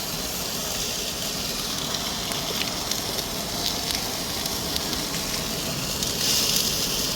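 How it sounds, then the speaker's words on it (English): Tri tip sears on a hot grill with a constant, close sizzle and hiss, broad and steady throughout, with no voices. "Get a little bit of a sear going on it."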